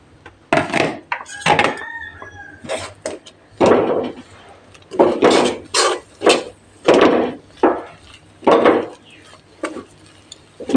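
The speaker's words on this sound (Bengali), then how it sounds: "একবার মিক্স করে 1 কাপ চালের গুঁড়ো অ্যাড করে দিচ্ছি" Rice flour being stirred and mixed in a pot for dolla pithe, irregular scraping and thudding strokes of a spoon against the pot, close and fairly loud with pauses between bursts.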